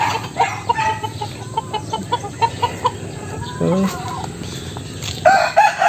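Chickens, including pullets and Asil fowl, make repeated close clucks and short calls over a busy farmyard background, with a voice speaking briefly.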